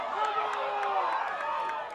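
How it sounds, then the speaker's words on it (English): Spectators at a boys varsity high school soccer playoff match voice their displeasure in an overlapping, sustained murmur of groans and jeers, moderately loud throughout. "Crowd expressing their displeasure"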